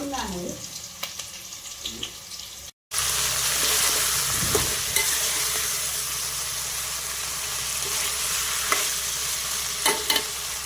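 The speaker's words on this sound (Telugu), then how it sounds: "ఆఫ్టర్నూన్కి అయితే దొండకాయ కర్రీ చేస్తున్నానండి" Ivy gourd curry frying in a pan, a continuous close sizzle with occasional scrapes and stirring strokes of a utensil, briefly cut out near the start and then resuming steadily.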